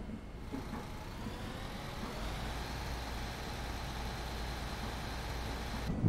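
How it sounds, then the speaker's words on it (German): Bus engine in the OMSI 2 simulator game, Waldhofen map, starting up and settling into a steady low rumble that holds evenly throughout. "Oh, Motor geht an."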